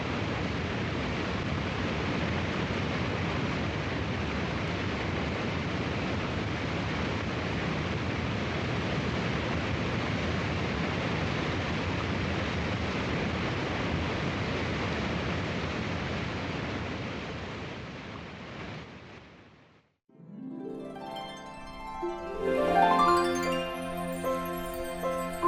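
Roaring waterfall at Heaven Lake on Mount Baekdu, a steady broadband rush of falling water close by for about twenty seconds that cuts off abruptly, followed by a brief burst of music.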